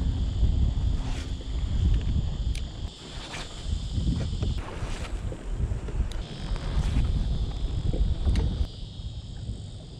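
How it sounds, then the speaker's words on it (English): Strong gusting wind buffets the microphone out on the water while fishing from a kayak, a steady broadband roar with low rumbling gusts throughout, loud and close, with no talking. "Try to get out of this wind. It is pretty hectic."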